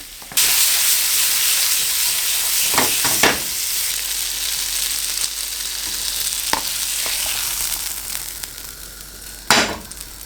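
Sirloin or rib-eye steak sizzles steadily in a hot pan with ground black pepper, with a few sharp scrapes and knocks as it is mixed and a louder clatter near the end.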